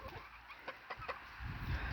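Chickens cluck softly in short bursts nearby, with rustling and low background noise building toward the end.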